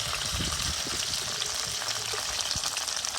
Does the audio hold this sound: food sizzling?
yes